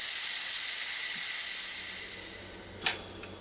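A Ninja Foodi Deluxe pressure cooker vents steam through its release valve after cooking beef and pasta, a loud, steady close hiss that slowly tapers off and ends with a small click.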